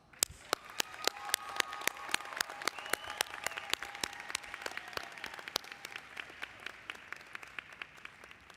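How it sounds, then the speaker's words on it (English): Graduates at a biomedical informatics commencement ceremony receive a round of applause, though it sounds fairly sparse and faint: distinct individual claps ring out in an irregular patter over a soft crowd background. "Please give our graduates a loud round of applause"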